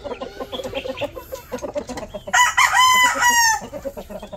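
Hens cluck nearby, then a large rooster lets out a loud, drawn-out crow close to the listener, ringing over the clucking before trailing off.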